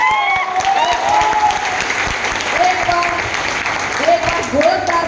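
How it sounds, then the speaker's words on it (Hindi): Audience at a school event in Bhagalpur breaks into steady, loud applause with scattered cheering and voices, the clapping continuous throughout. "जोरदार तालियों से इनका स्वागत कीजिए"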